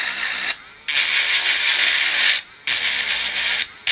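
A Dremel rotary tool sands paint off a doll, its high whining grind running in three long bursts separated by short pauses, loud and close with no talk.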